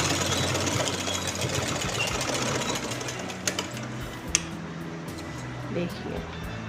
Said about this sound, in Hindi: इसको हम ऐसे अंदर की तरफ फोल्ड करके सिलाई लगा देंगे